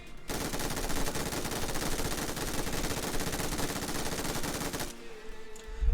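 A rapid, dense burst of automatic gunfire from a weapon in PUBG Mobile rattles loudly and continuously for about five seconds, then cuts off abruptly into quieter game ambience.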